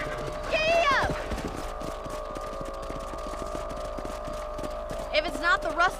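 Horse hooves in the Western video game Red Dead Redemption, a steady rhythmic clip-clop of a ridden horse moving across a ranch property, with a brief voice and game sounds over the hoofbeats near the start and end.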